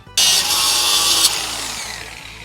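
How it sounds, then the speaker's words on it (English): A power grinder cuts a flat section into metal stock to prepare it for welding a DIY trivet, starting abruptly with a loud, steady high-pitched whine that eases and fades as the grinding continues. "by grinding right here a flat section so they can weld together"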